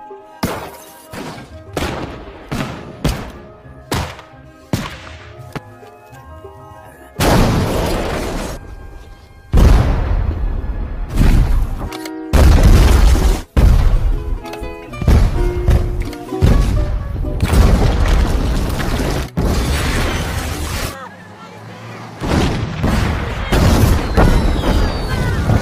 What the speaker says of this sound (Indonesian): Hobinya ngeledakin bom.